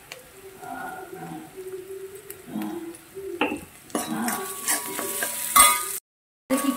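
Ingredients for a crab soup are sautéed and stirred in a pan, with a utensil scraping and clattering against the metal over a soft frying sizzle. The sound briefly cuts out near the end. No one speaks.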